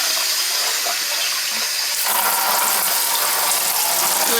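Hot water running steadily from a tap into a bucket, the splashing rush growing brighter and louder halfway through.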